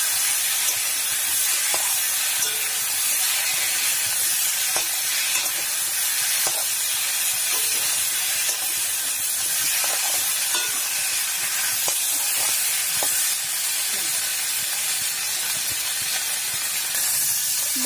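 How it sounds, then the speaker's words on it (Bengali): Spice paste frying in a pan with potatoes for a Bengali chela fish curry, a steady close hiss and sizzle with occasional stirring clicks, continuing evenly throughout. "মশলাটা ভাজা হয়ে গেছে"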